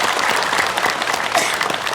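Studio audience of women clapping on a morning religious TV show, a dense, even burst of applause that stays fairly loud and steady throughout, with no talk over it.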